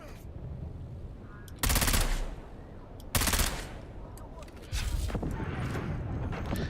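Enemy fire troopers in the Dune Awakening game let off bursts of automatic gunfire, three loud rattling volleys standing out over steady background battle noise, with a player talking.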